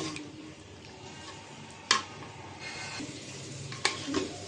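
Beef tongue and head meat curry being stirred in a pot, with a soft continuous sizzle and scraping throughout and two sharp utensil clinks against the pot.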